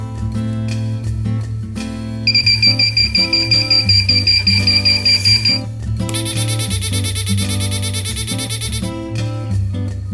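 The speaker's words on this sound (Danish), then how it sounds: "anbefaler vi vores alarmure, som kan træne dit barn regelmæssigt til at gå på toilettet" A children's bedwetting alarm cycles through several loud electronic alert patterns: a repeating tone melody, a stretch of rapid pulsing beeps, then a harsh buzzing burst, all close and continuous without speech.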